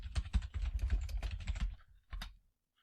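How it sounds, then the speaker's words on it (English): A computer keyboard is typed on to enter a search, a quick burst of close, crisp key taps that slows and ends in a couple of final strokes, with no voices. "clicking on the search and just type in whatever problem it happened to be"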